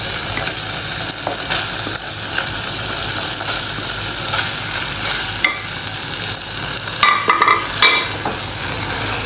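Pointed gourds tossed into a pan with spices and sugar, then stirred: loud continuous sizzling with scraping spoon strokes and a few sharp clatters toward the end, no voices.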